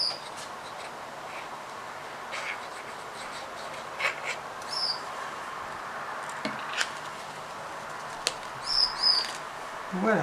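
Small pet birds chirp faintly indoors on a sunny day, a few short high tweets scattered through the clip over quiet paper handling and room noise.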